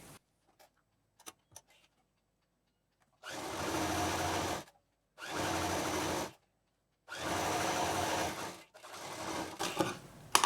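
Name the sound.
sewing machine stitching a double seam on a handbag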